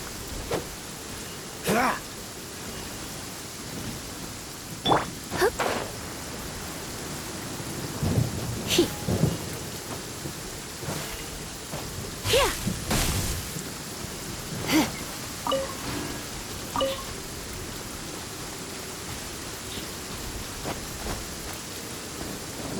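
Rain and thunder in the video game Genshin Impact: a steady hiss of rainfall with repeated thunder cracks and rumbles, some sharp and close, scattered through the whole stretch.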